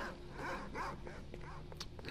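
Dogs bark and growl in S.T.A.L.K.E.R.: Shadow of Chernobyl, several short rough barks in quick succession at moderate distance, over faint game ambience.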